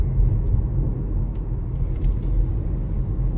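A VW Taos cruises on adaptive cruise control at up to 60 km/h behind another car, giving a steady, loud low road rumble and engine hum inside the cabin with no talking.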